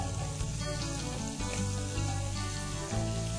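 Shrimp sizzling steadily in a hot pan, a dense, continuous frying hiss with small crackles that stays loud and even from start to finish.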